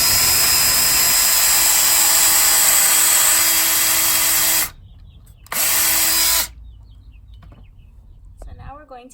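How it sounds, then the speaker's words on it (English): A power drill bores pilot holes in 4-foot-long boards for a raised garden bed: a loud, close, high whir runs for several seconds, pauses, then returns briefly before quieter handling noise and a voice. "Next, we will pre-drill our 4-foot-long boards."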